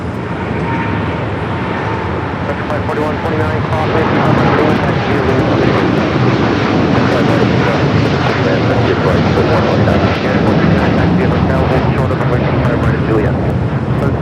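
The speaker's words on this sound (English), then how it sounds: "The next arrival is that second Air Tahiti Nui flight coming from" An Air Tahiti Nui jet arriving at Los Angeles International from Papeete roars loudly and steadily, a broad engine rush swelling after the first few seconds and holding, with talk faintly beneath.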